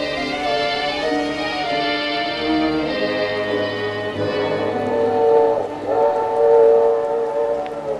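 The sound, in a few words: train sound effect in vintage radio drama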